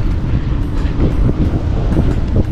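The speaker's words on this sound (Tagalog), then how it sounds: "Lakas ang hangin." Strong wind on the Binondo-Intramuros Bridge in Manila buffets the microphone in a continuous loud, rumbling roar with gusty surges and no clear voices.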